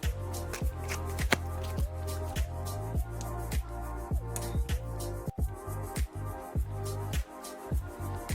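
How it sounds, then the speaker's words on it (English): Tarot cards being shuffled during a card reading, a steady run of soft riffling and slapping card sounds with brief pauses, close and fairly loud, with music or a low drone running underneath. "I'm going to shuffle out a card for your person."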